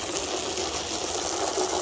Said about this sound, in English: I'll just rinse it all off in the yard there